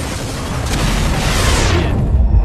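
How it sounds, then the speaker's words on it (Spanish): A loud, sustained explosion in the racing video game Split Second: Velocity roars through the whole clip, a thick rumbling blast with crackling debris that stays dense before easing slightly at the end. "Puedes pulsar el botón de energía de nivel 2 y causar una explosión mayor"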